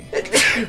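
A single short, close sneeze from a person at a tabletop role-playing game session, a quick sharp burst lasting under a second.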